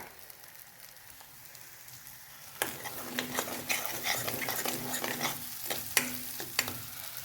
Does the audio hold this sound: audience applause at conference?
no